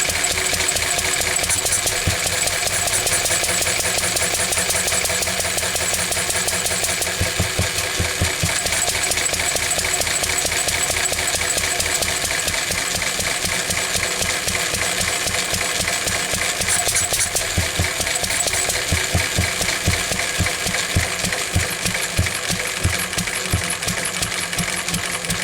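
A Lister stationary engine running on stale petrol chugs steadily and loudly throughout, its rapid even mechanical knocking and clatter continuous and close.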